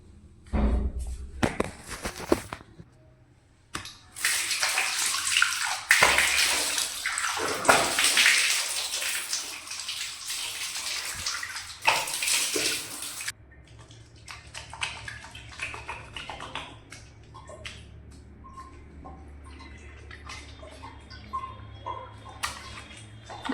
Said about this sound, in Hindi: अब जाके थोड़ा मुँह धो लिया जाए